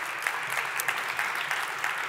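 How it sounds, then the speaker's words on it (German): Modest applause greets a guest walking up at a German health event, a thin, steady patter of clapping from a smaller audience with a few distinct louder claps, no speech over it. "Und Sie werden sicherlich getragen von einem kleinen Applaus."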